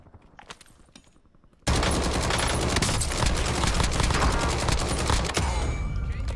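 Sustained automatic gunfire from Call of Duty Warzone erupts suddenly after a quieter stretch of lighter shots, a loud, rapid, continuous rattle of rounds filling several seconds.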